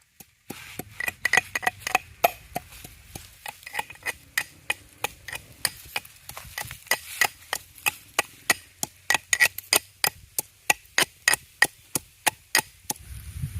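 Ginger and garlic are pounded in a mortar and pestle, a long run of sharp, evenly spaced thuds repeating roughly twice a second, close and clear with no talking.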